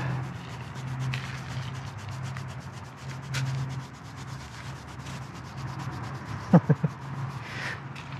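A horse's coat being scratched and rubbed with a steady, dry rasping texture that runs continuously throughout, close by, with a few sharp knocks or thuds near the end.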